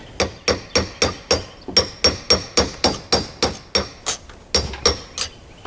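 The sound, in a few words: hammer whacking corners of Toyota Tundra carrier bearing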